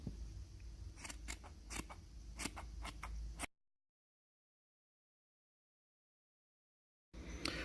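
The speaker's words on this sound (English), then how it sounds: "Now let's just trim it up." Sharp scissors snip through pom pom mesh in a quick run of crisp, close cuts over about three seconds, then silence before faint handling noise resumes.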